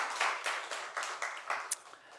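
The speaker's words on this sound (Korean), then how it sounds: "우리 하나님께 영광의 박수 올려드리겠습니다" Brief burst of congregational clapping in a church during a Sunday morning worship service, a scattered, rhythmic patter of hands lasting a couple of seconds at moderate distance, fading out at the end.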